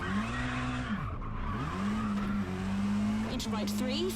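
A rally car in the WRC 10 video game skids on a wet surface, its engine droning steadily with tire squeal, then crashes with a brief impact near the end; a voice talks over it.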